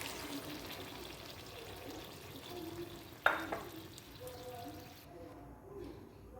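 Salted chickpea water poured into a pan of frying masala, a quiet sizzling pan followed by a sudden splash and gurgling pour, then the sizzle dies down into quiet.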